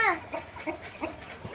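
Hens and an Aseel rooster kept at a farmhouse let out a quick run of close, short clucks, one after another, with no voices.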